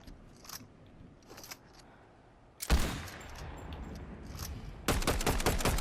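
An explosive repeater rifle firing in Fortnite: a few faint distant shots, then a sharp loud blast and a rapid close string of cracking shots near the end.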